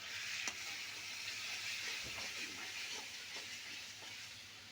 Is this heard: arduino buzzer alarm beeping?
no